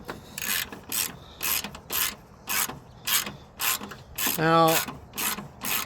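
Ratchet with a small extension backing out fender screws on an MK8 GTI, repeated bursts of rapid clicking in a steady rhythm, close and fairly loud, with one short spoken word.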